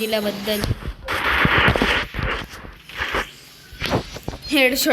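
Shotgun fire in a video game: several sharp, loud bursts spaced irregularly, mixed with talking voices.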